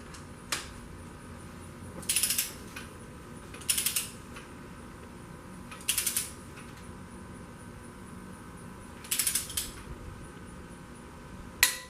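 A torque wrench ratchets in short clicking bursts while tightening bolts during a Honda Del Sol engine assembly, four or five distinct clusters spaced a couple of seconds apart over a low steady background hum.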